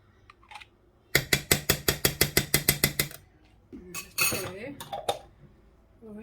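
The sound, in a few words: mixing coconut milk and mango chutney into vegan korma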